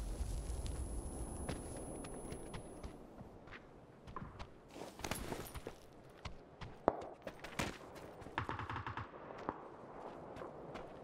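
Rifle gunfire in the battle royale game PUBG: scattered sharp shots, fairly distant and quiet, over a low ambient rumble with footstep-like shuffling, the clearest reports landing near the middle.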